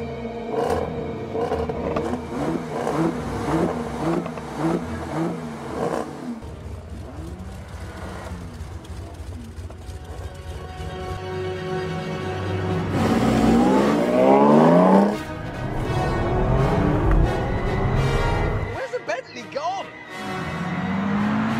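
Range Rover and other luxury SUVs accelerating hard in a drag race, engines roaring and rising in pitch through gear changes, with a louder surge midway and a voice talking over the engine noise.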